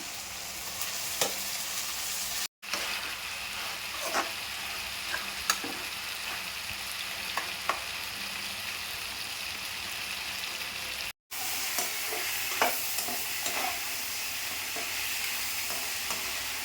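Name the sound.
onions and tomatoes sautéing in pan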